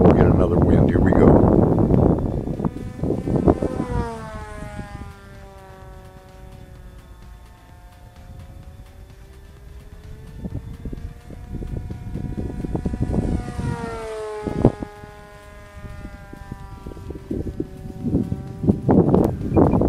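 A tiny German pistonless nitro model engine runs lean, its high whine rising and wavering in two long surges while someone talks near the start and the end.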